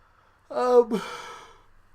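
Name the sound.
person yawning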